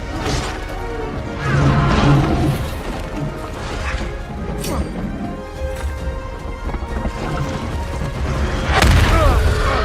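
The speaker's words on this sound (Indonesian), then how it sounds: "Terus si Davis ngelemparin granat ke Lizzie." Grenade explosion from the 2018 film Rampage, heavy crashing booms and smashing impacts in a loud, dense action soundtrack with a further burst near the end.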